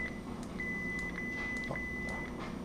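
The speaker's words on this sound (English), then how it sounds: "When you hear that beep, you're in the volume menu." A Korbanth Starkiller neopixel lightsaber with a Proffieboard gives its volume-menu beep: a thin, steady electronic tone lasting under two seconds, faint beneath a low background hum.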